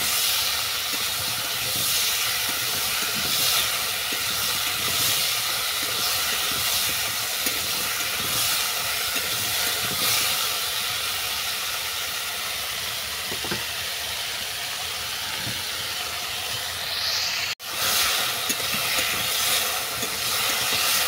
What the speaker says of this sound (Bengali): সবজিগুলোকে হালকা করে ভেজে নেব।